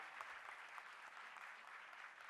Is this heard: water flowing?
no